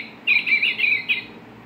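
A Webkinz toy bird gives a quick run of shrill, warbling electronic chirps, loud and close, lasting about a second before stopping.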